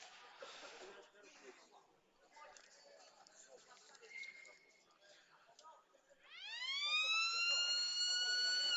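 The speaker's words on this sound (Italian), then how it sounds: "Tanto la sirena dice che si può ripartire." A siren at a football stadium signals the restart of play, rising in a loud wailing sweep near the end after stretches of crowd murmur and commentary.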